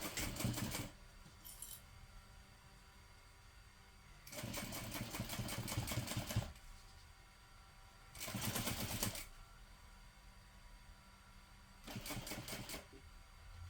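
A domestic sewing machine stitches in short bursts, its rapid mechanical clatter starting and stopping four times with quiet pauses between runs.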